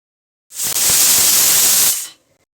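A pressure cooker lets out a loud, close burst of hissing steam lasting about a second and a half, then cuts off sharply.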